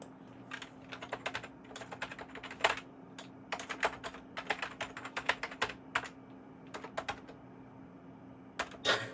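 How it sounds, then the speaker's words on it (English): Typing on an Apple Design keyboard in irregular bursts of clicky keystrokes, fairly close and quiet, with short pauses between runs of keys over a low steady hum. "You can probably hear this keyboard isn't exactly the best sounding."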